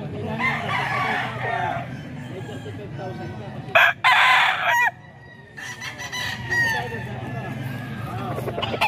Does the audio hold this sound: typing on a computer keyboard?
no